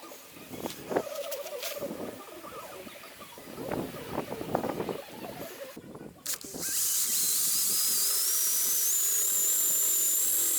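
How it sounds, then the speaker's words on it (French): A drill bores through material with a wood bit for a 12 mm threaded rod, heard as a loud, steady high-pitched whine in the last few seconds, after scattered handling knocks and clatter. "pour le perçage, j'utilise une mèche à bois"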